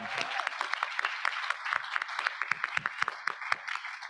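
Audience applause at a university graduate research competition, a crowd clapping in quick uneven bursts that overlap into a lively, moderately loud patter.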